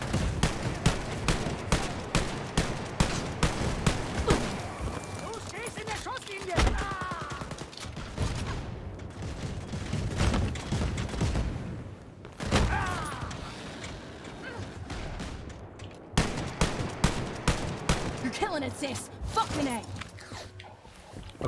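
Sustained automatic gunfire in the shooter game Wolfenstein: Youngblood, with rapid repeating shots, brief pauses and mechanical clanks, and a voice talking intermittently over the firing.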